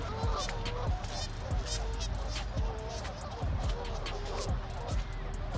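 Geese honk repeatedly and loudly nearby, overlapping calls in an agitated chorus with faint background chatter.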